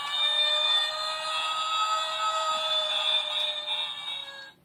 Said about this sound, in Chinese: 然后当然在人形也是可以响这个警笛的